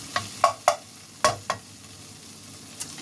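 Minced pork toasting in a pan, a series of sharp scraping and tapping stirring strikes, about six spaced knocks over a faint low sizzle, close and clear with no talk.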